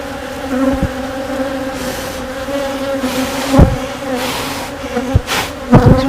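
Worker honey bees buzzing around an open hive during queen marking, a dense close hum with individual bees droning past and a few sharp knocks.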